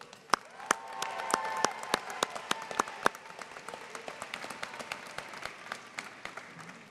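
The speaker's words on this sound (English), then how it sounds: "I now would ask the graduates to please stand, in turn, and give your parents a warm round of applause." Graduates at the Curry College Class of 2019 commencement applaud their parents, a scattered round of clapping with sharp individual claps standing out over a softer crowd wash, moderately distant and fading slightly toward the end.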